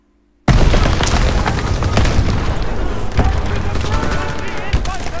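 Gunfire in the Call of Duty WWII video game, bursting in suddenly after a short silence with rapid machine-gun fire, sharp repeated shots and deep booms, loud and dense through to the end.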